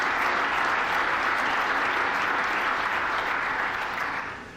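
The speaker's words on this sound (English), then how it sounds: "I hope that's not the last bit of applause that I get" An audience at a security conference applauds in a dense, steady wash of clapping that fades slightly at the end.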